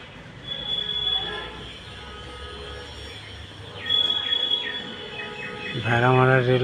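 Train at Bheramara railway station, a steady rumble of railcars with squealing wheels and metallic screeches building louder toward the end, close by, with faint voices in the background.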